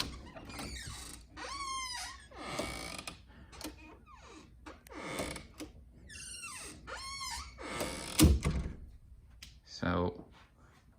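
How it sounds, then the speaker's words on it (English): Squeaky hinge on a home office door, several drawn-out creaking squeals rising and falling as the door swings back and forth, moderately loud with a few clunks. "So there's the demonstration of the squeak"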